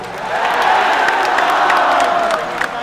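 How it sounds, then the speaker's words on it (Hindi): A large crowd at a religious gathering in Raipur, Chhattisgarh, claps loudly and raises a collective cheer, a dense, steady roar of clapping and voices that holds for a few seconds. "जोरदार ताली बजाकर जय श्री राम बोलिएगा।"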